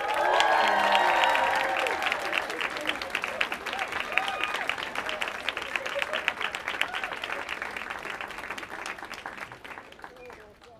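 Studio audience applause and cheering as two television actors walk out for an interview, starting loud with shouts and whistles, then settling into steady clapping that gradually thins and fades out.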